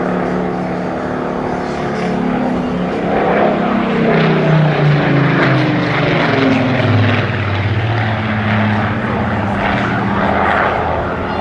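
A Griffon-engined Spitfire fighter passing overhead at an air festival, a loud droning propeller roar whose pitch slides downward as it goes by, sustained and steady throughout.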